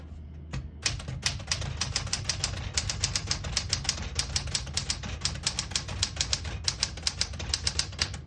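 A 1975 Smith-Corona Classic 12 portable typewriter types in a fast, steady run of crisp, close key strikes. Its mechanism clatters and thumps underneath the keys with no voices.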